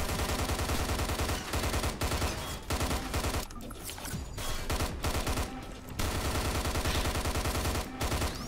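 Sustained rapid gunfire in the Hunt Down The Freeman shooter game, loud dense automatic bursts with a few short pauses, no voices.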